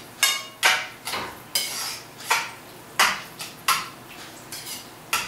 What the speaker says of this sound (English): I mix it all around.